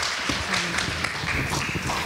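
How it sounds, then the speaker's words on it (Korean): Audience applause at a year-end foundation event hall in Korea, a moderate spatter of scattered clapping with irregular sharp hits, somewhat faint and mixed with background murmur. "다시 한번 큰 박수 부탁드리겠습니다"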